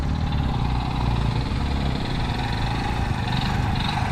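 Motorcycle engine running steadily on an off-road hill climb in Chitwan, a loud, close, even drone with no voices.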